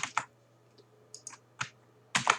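A few sparse computer keyboard keystrokes, crisp and close, as text is pasted and entered, with quiet gaps between clicks.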